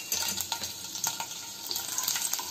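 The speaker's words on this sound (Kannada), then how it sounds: "ಈಗ ಎಣ್ಣೆ ಕಾದಿದೆ ನೋಡಿ ಎಣ್ಣೆ ಕಾದಿದೆ ಇದಕ್ಕೆ ಬೆಳ್ಳುಳ್ಳಿ ಹಾಕ್ತಾ ಇದೀನಿ" Garlic sizzles and crackles in hot oil in a pan while atta noodles are being made, a steady close frying hiss dotted with sharp pops and light stirring clicks.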